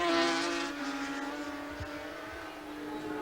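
A racing sidecar outfit at a 1990 Snetterton meeting accelerates up through the gears on the fastest part of the circuit, its engine giving a steady loud rising drone with strong harmonics.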